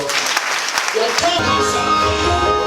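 A church congregation clapping during a gospel service, a dense wash of hands at first that gives way to music, with voices mixed in and no clear pauses.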